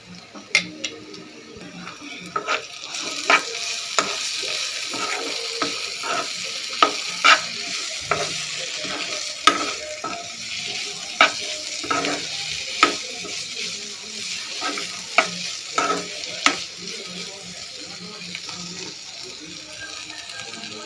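Bitter gourd fries in a pan, a steady sizzle broken by regular scraping strokes as the pieces are stirred, close and fairly loud throughout.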